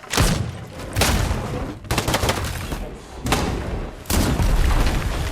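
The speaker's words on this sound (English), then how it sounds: "the guns in this game feel really fun to shoot" Guns firing in the survival horror video game Crisol make four loud, booming shot bursts with splintering debris, each followed by a decaying rumble, spaced about a second apart.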